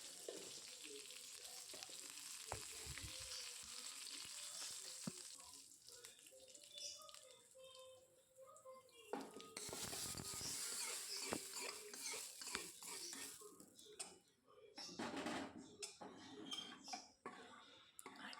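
Mustard seeds, fenugreek and curry leaves tempering in a hot pan, a low sizzle rising into bursts of louder crackling and spluttering with clatters in between.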